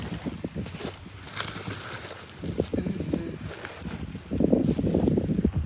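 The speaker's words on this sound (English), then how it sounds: "the wind is blowing and like doing this thing" Wind gusts outdoors buffet the microphone in a steady, loud low rumble with swelling bursts toward the end, no voices over it.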